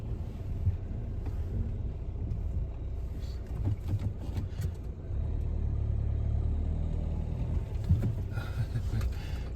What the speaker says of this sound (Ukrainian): так що ж тут буксують, колеса прокручуються